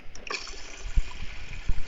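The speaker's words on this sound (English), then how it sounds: "that water sound that you hear is coming from his fountain" Water trickles and dribbles from a gold fountain at a mansion, a soft liquid splashing with a few gentle plops, close and fairly quiet, and no voices.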